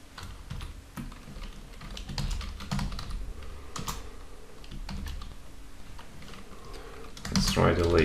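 Code being typed on a computer keyboard while writing HTML date and time inputs, with steady, fairly close key clicks running throughout and a brief louder burst near the end.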